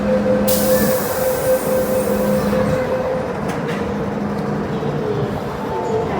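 An MTR train rumbles into Mei Foo station in Hong Kong with a steady, loud roar, sustained wheel and brake squeal tones, and a couple of sharp clanks along the way.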